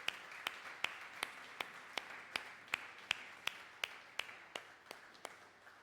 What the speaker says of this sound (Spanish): Si va a aplaudir al Señor, apláudale.